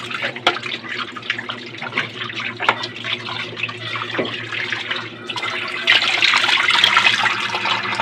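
Chicken drumsticks are rinsed under a running kitchen tap, a continuous splashing stream of water that gets louder and brighter toward the end, with a few handling knocks.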